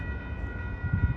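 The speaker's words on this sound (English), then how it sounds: "Here comes Amtrak California Zephyr number 5 on its way to the Bay Area" An Amtrak California Zephyr number 5, a triple-header led by locomotive 136, passes on Sutro Street heading for Emeryville, giving a brief steady rumble of engines and rolling cars with a low throb that swells near the end.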